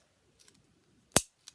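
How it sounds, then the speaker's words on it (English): A pen clicks close by: a few faint ticks, then one sharp loud snap and a softer click after it, with no talk. "I'm a giant child clicking my pen."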